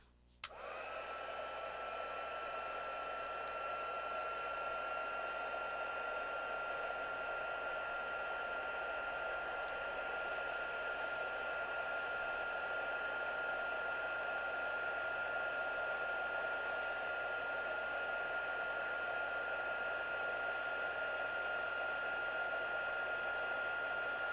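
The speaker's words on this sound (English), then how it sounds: "Grab the heat tool." A crafting heat tool for embossing switches on with a click and blows continuously, a steady whirring fan hum with a high whine, close and unbroken, no speech.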